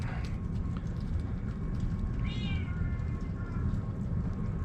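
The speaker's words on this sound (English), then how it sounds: "Cats are arguing over there, back there." Cats squabble in the background during outdoor trout cooking, with a drawn-out, wavering meow rising over steady low ambient noise and a few fainter cries around it.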